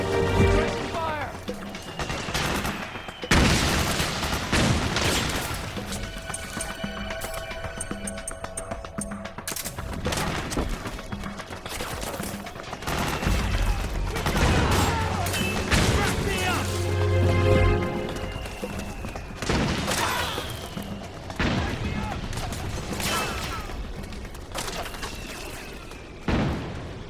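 Gunfire and explosions in the PS3 game Metal Gear Solid 4: Guns of the Patriots, with dense bursts, booms and crashes layered over battle noise and shouted game voices throughout.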